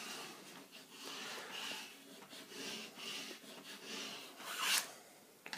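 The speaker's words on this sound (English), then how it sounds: "make sure to rub all of the small letters very well" Vinyl decal lettering being rubbed firmly onto a window: soft, faint, rhythmic swishing strokes repeating for several seconds, ending with a brief sharper scrape.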